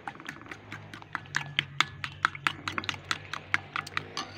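A whisk beats a mixture in a bowl in quick, steady clicking taps, close and crisp, the strokes coming in an even rhythm with a low hum underneath and no talking.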